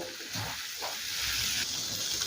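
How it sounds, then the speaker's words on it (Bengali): Fried potatoes and okra stirred in a spice paste produce a steady close hissing sizzle that swells slightly, with a few faint spoon scrapes and no speech. "মশলার সাথে আলু আর ভিন্ডি একটু কষিয়ে নেব"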